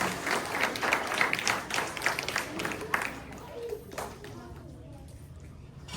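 An audience at a Telugu children's language festival applauding after a young boy's song, a dense burst of clapping that gradually fades out over several seconds, with crowd voices and children's chatter mixed in.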